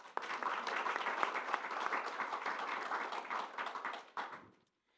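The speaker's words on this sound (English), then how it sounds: "This applause is for you." An audience at a panel discussion on European security applauding, a dense, steady burst of many hands clapping that holds for about four seconds and then quickly dies away.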